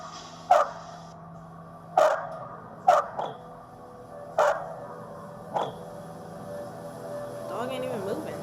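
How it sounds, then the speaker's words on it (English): A dog barks in short, sharp bursts, about five spaced barks over several seconds, fairly close and clear above a low steady background hum. "Dog ain't even moving. How's it barking?"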